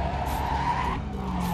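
A fast car in Cyberpunk 2077 skids with a sustained tire squeal over engine roar, holding loud and close for about a second and a half with no talking.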